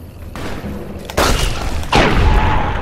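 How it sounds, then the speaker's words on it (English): Gunshots ring out in the video game Fallout New Vegas, two loud booming reports a fraction of a second apart, each leaving a long echoing tail. "Double shot, headshot, reload."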